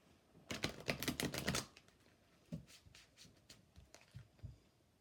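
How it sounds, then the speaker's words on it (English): Cards are riffled together in one quick, crisp shuffle, followed by a few soft taps and handling sounds nearby. "We'll do one shuffle, and then we'll cut."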